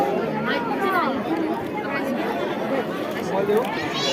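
Dense crowd chatter at a packed Marathi haldi ceremony, with many voices overlapping continuously and some nearby people talking loudly over the hubbub.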